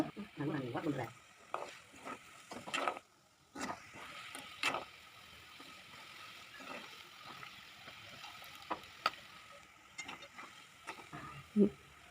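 Cauliflower pakoda deep-frying in hot oil, with a steady low sizzle broken by intermittent stirring clatters and bursts of bubbling, moderately quiet and with no talk.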